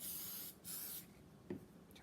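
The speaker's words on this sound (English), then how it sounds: "I'm just going to just spray it here." An aerosol spray can hisses onto a wine glass being glittered in two short bursts, near and loud, followed by a quieter pause and a small tap.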